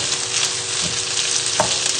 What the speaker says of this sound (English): just finish off cooking the sausages